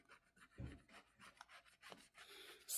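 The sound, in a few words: scratching a box on a scratch card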